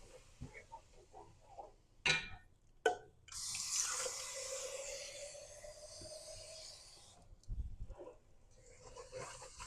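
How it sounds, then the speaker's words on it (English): Water poured from a tap into a pot of homemade, concentrated stock for loaded baked potato soup, with bacon grease left in: a steady hissing, splashing pour lasting several seconds, close by, after a few knocks and clinks. "That is why I'm adding water."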